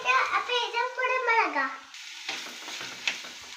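Someone speaks for about two seconds, then a pan of onion and capsicum chillies starts frying with a soft, steady sizzle and a few faint stirring taps that carry on to the end.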